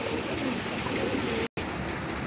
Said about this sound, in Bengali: আরেক জোড়া কবুতর দেখতে পাচ্ছেন, চিলা কবুতর